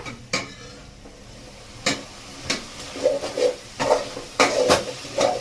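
A spoon stirs pilaf masala in a pot, several distinct scraping knocks arriving irregularly and growing busier toward the end, close and fairly loud over a faint background hiss of frying.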